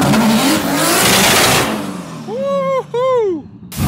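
A 750hp Nissan R32 GTR roars loudly at close range, its engine revving hard with rising and falling harmonic sweeps as it shifts into a burst of tire noise, while people cheer and talk over it.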